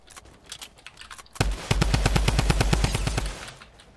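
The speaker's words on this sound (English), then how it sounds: "Drum gun, come on!" A drum gun fires in a video game as a rapid, loud burst of closely spaced shots lasting about two seconds, preceded by fainter scattered game sounds.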